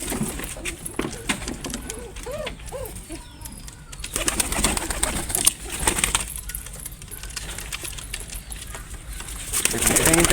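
A male pigeon held in the hand coos in short repeated rising calls, with bursts of wing flapping and rustling nearby, while someone talks over it.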